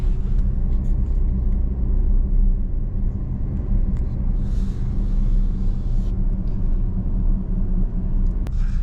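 Car driving along a road in Montenegro, a steady, loud low rumble of engine and tyres filling the whole stretch, with no talk over it.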